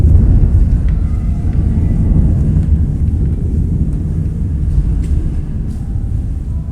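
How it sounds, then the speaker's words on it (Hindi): Thunder rumbling through rainy weather, a continuous low, heavy roll that stays loud throughout with no voices. "बारिश का मौसम किया है, काफ़ी बादल गरज रहा है ना।"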